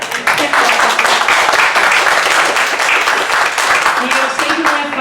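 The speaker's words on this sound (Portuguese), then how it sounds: "E eu peço uma salva de palmas para ela aí." Audience in a hall applauding a speaker's mother at a public security talk, dense sustained clapping throughout, loud and close with crowd noise mixed in.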